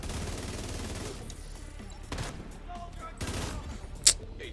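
Gunfire bursts and shotgun blasts ring out in the online shooter The Division 2, a few sharp reports over steady game ambience, mid-distance and moderately loud.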